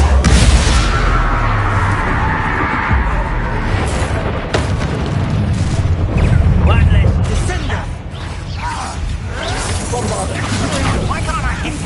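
Confringo spell blasts in a Hogwarts video game: heavy booming explosions and crashes recur throughout, with voices talking over the dense battle noise.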